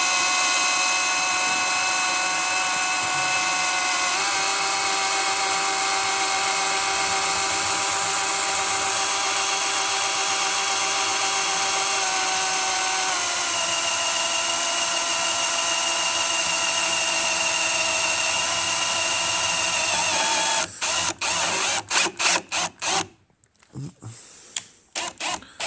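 A power drill whines as it bores through the body panel of a 2005 BMW X5 E53 4.8is, a loud, sustained high-pitched tone that shifts in pitch, then stutters in short bursts and cuts off as the bit breaks through near the end.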